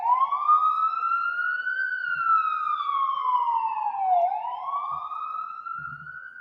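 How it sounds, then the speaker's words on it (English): A police siren wails steadily, its pitch rising and falling as it passes nearby, loud and clear with no talking over it. "Let that siren go by."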